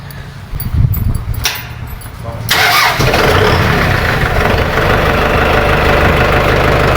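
A Kubota M6040SU tractor engine, around 900 hours of use, cranks briefly, then catches and settles into a loud, steady, close diesel idle that runs without a break.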